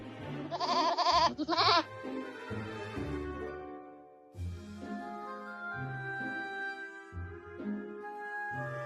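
A goat bleats in a fairy tale, a few quick, wavering cries at the start, followed by gentle melodic background music.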